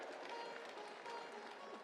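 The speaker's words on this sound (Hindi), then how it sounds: "ठोको ताली अपने लिए" An audience at a yajna gathering claps together, a dense and steady wash of applause that keeps going through the whole moment without letting up.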